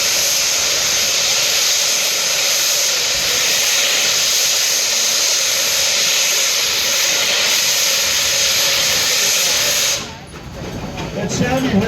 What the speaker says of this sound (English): that sound you hear is called a pop-off valve.